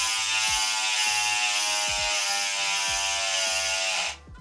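The freewheel ratchet of a Rondo Ruut bicycle with carbon-spoke wheels gives a loud, continuous, high-pitched mechanical buzz from close by, then cuts off sharply at the end.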